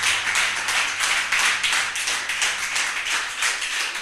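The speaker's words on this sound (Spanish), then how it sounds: "Denle un fuerte aplauso a la gloria de Dios." A church congregation claps in a rapid, dense patter that swells and ebbs in a loose rhythm, close and steady throughout with no voices.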